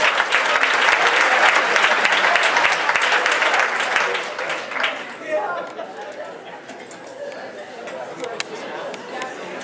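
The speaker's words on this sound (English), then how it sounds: "Give yourself a round of applause" Audience applause at a corporate motivational talk, loud and dense at first, then thinning and fading over the second half with scattered claps and murmuring voices.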